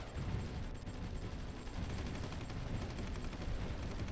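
Massed units firing weapons in the war strategy game Supreme Ruler 2030 during a battle near Los Angeles, a dense continuous crackle of overlapping gunfire and blasts that stays loud the whole time.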